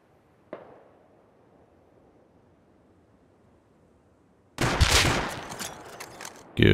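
Gunshots in the survival game Rust: one sharp, fairly faint shot early on, a long quiet gap, then a loud burst of heavy firing near the end with a final close bang.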